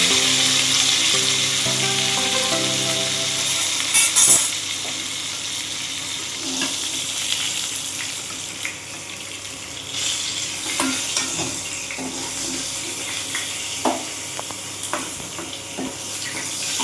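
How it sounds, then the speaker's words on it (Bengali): Slices of pointed gourd (potol) frying in hot oil, a steady sizzle with stirring scrapes and clinks throughout, close and fairly loud with no talk. "আমার পটলগুলো খুব সুন্দর ভাজা হয়ে গিয়েছে। এবার এগুলোকে আমি তেল দিয়ে তুলে নেব।"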